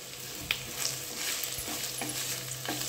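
Okra (bhindi) frying in hot oil over a medium flame, a continuous bright sizzle with light crackles and a soft clack near the start, no voices.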